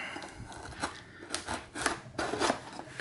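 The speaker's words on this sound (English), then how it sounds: "We're just going to cut into the box" A small knife slicing through packing tape on a cardboard keyboard box, a close, quiet series of scratchy rasping cuts and rubs in short bursts.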